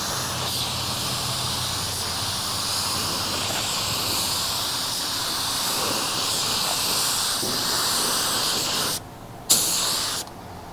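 Spray gun laying clear coat onto car headlights, a steady loud hiss of atomized spray running continuously, then cutting off briefly near the end with a short burst.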